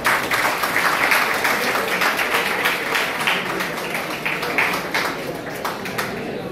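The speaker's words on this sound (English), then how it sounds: "So, big round of applause." Audience applause after a speaker's introduction at a college talk, a steady wash of clapping from a seated crowd lasting throughout at even loudness, with faint voices mixed underneath.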